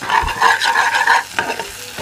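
Curry leaves dropped into hot oil in a pan, giving a short, loud crackling sizzle with stirring scrapes, close and alone.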